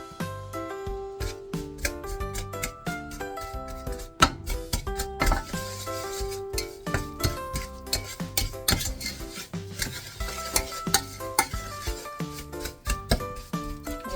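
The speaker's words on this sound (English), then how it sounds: "you want a nice heavy spoon because you're going to be stirring this constantly while it's cooking" A heavy spoon stirs sticky dates in a hot pan while they cook, giving a steady run of scraping, knocking and clinking against the metal, close and fairly busy throughout, with a tonal background underneath.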